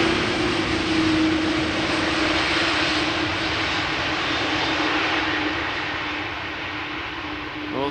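A landing airliner at Amsterdam Schiphol Airport fills the air with a loud, sustained engine roar and a steady whine that fades slowly as it passes, heard alone without talk.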